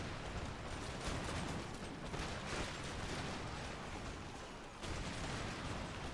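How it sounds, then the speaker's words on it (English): Cannon and musket battle fire in the strategy game Empire: Total War, a dense continuous roar of booming volleys and rumbling explosions throughout, loud and unbroken, with no clear talk. "Cannon, target that square formation."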